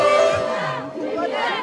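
Crowd of environmental protesters outside the Total Energies shareholders' meeting jeering and booing, with sustained shouting voices and babble blending together close by.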